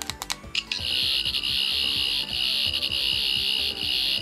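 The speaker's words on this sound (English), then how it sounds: "pulsing sound effect, I suppose I'd call it." A Thirteenth Doctor toy sonic screwdriver gives a loud, high electronic whine with a rapid pulsing pattern underneath, preceded by a few quick clicks, sustained close up for several seconds.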